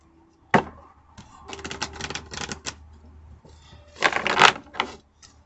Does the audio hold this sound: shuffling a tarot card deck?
yes